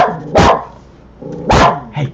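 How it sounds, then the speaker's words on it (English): Two loud, close dog barks about a second apart, each followed by a shorter yip, with quiet room noise between them. "And that was the bark of Miles here"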